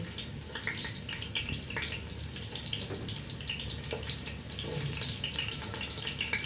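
Chopped onion added to hot oil in a pan for a vegetable and fish fillet stir fry, giving a steady close hiss and crackle with scattered sharp pops throughout, no talking.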